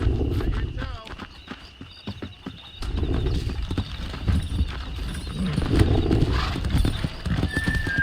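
Horse hooves clip-clop at a steady riding pace in the Red Dead Redemption game, with an occasional whinny and voices talking over the galloping.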